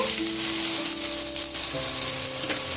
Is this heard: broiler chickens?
no